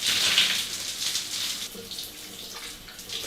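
Running water rinses through hair, a continuous close splashing flow from a tap that starts strong and eases slightly before swelling again.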